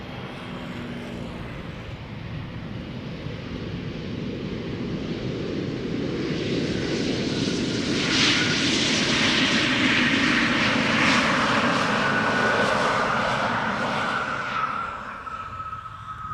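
KLM airliner arriving at Amsterdam Schiphol Airport, its jet engine roar building steadily from a distant rumble to a loud, broad drone overhead, then slowly easing as it passes, with no talk.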